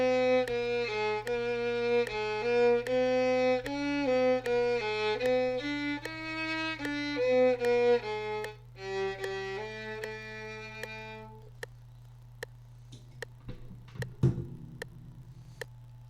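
Bowed viola plays a melodic phrase with hooked up-bows from a song lesson, clear and steady notes over a low hum, ending with a few faint clicks and handling noises.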